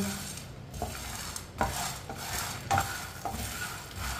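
Chickpeas being roasted and stirred in a pan on a medium flame, with a steady soft sizzle under repeated scraping strokes of a spoon against the metal, close and moderately loud.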